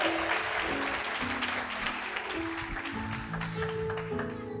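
Congregation at a church service applauds to welcome someone forward, dense clapping over sustained musical tones from an instrument, fading slightly toward the end.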